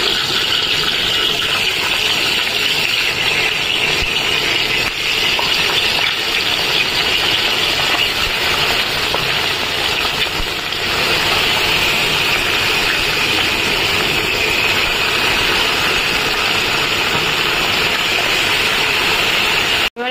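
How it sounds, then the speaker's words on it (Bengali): Pieces of rohu fish fry in hot oil in a wok, giving a loud, steady sizzling hiss that holds without a break for the whole twenty seconds. "তেল গরম হয়ে গেছে, এবার আমি একে একে পিসগুলো দিয়ে দিই।"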